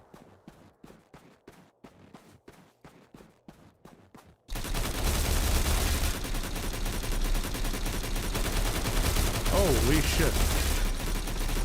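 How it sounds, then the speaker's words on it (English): AI enemies firing in STALCRAFT: X, first a run of sharp single shots spaced at an even rhythm, then a sudden dense roar of sustained fire and noise. A voice exclaims briefly over it. "How are they even shooting at me?"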